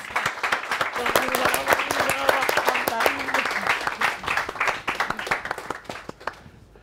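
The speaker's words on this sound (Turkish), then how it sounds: "Evet kocaman bir alkış alabilir miyiz?" Wedding guests applaud in a steady, dense burst of clapping, with a voice speaking over the first few seconds before the applause thins out.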